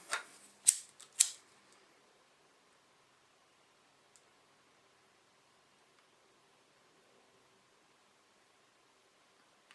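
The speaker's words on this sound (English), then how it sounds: "We're just going to do the same thing we did with the other sides, is we're just going to cut these" Scissors cutting paracord bracelet strands, three quick sharp snips close up at the start, then near silence with a faint tick.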